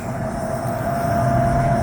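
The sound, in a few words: CSX train with Monon Heritage Unit passing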